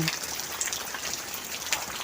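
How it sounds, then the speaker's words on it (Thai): Rain keeps falling in Yala province in southern Thailand as a heavy downpour eases, a steady patter of drops with brief splashy spikes, close and continuous, with no talking. "วันนี้ทางใต้ที่จังหวัดยะลาฝนตกหนักค่ะทุกคน อันนี้ค่อยๆซาลงแล้วแต่ก็ยัง ตกอยู่"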